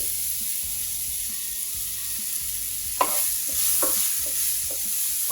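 Chopped onion and cashew nuts, with raisins, sauté in a pan, a soft continuous sizzle under the clack and scrape of a spatula that sharpens into several stirring strokes in the second half; no one speaks.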